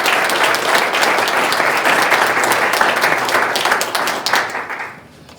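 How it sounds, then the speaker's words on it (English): A conference audience applauds the panel at a nature-based wellness event, with dense, loud clapping from many hands that holds steady and then tapers off. "Let's give a round of applause to the panel."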